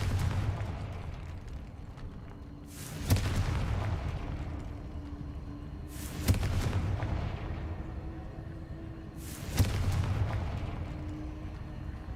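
Confringo fire spell blasts in Hogwarts Legacy, three loud explosive bursts spaced about three seconds apart over a steady low rumbling game ambience.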